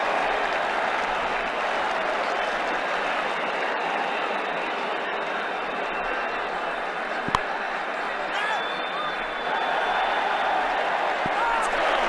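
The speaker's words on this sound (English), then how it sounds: "The crowd enjoyed that shot." Steady roar of a cricket crowd applauding a shot at an Ashes 2009 Test between Australia and New Zealand, continuous and broad, with a sharp knock partway through.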